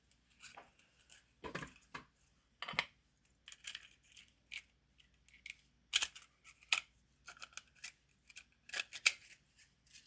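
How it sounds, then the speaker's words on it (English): Scissors snipping two small pieces while making a floating seed bead necklace, a series of quiet, crisp clicks and snips scattered irregularly, close and soft against near silence. "So I'm just going to cut 2 little pieces here."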